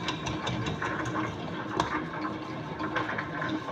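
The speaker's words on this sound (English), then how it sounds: "I'm going to knead it, or the machine is going to knead it for 20 minutes." Bread machine kneading homemade bread dough, a steady whirring motor hum with a continuous rhythmic churning and faint knocking throughout, close and moderately quiet.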